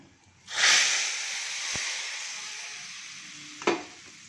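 Hot tempering poured into hot sambar bursts into a loud, steady sizzle that hisses on and slowly fades, with a brief clink near the end.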